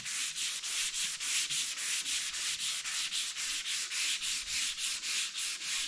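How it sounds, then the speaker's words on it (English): Rapid rhythmic sanding strokes removing gray primer from a 1932 roadster's body, a steady back-and-forth rasp repeating about four times a second, close and fairly loud. "the actual sanding dust you see is the gray primer when I'm sanding it back off"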